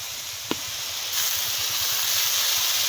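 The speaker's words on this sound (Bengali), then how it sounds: "এই মশলাটা ভালো করে একটু ভেজে নিতে হবে।" A paste of ground ginger and cumin fries in a pan with a steady, close hiss that swells louder partway through, after a single brief clink.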